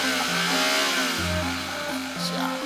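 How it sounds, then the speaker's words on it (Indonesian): A motorcycle revs hard in front of a shop in Jakarta, the engine pitch rising and falling in loud bursts close by, with excited voices talking over it. "Gas motor kenceng banget depan toko gua."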